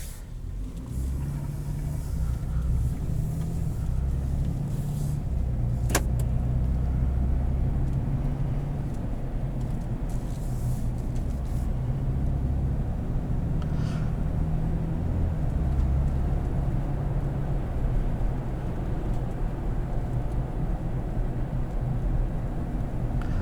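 A 2021 Nissan Frontier PRO-4X with a 4-liter six-cylinder and nine-speed automatic hums along with steady engine drone and road rumble from inside the cab, with one sharp click partway through.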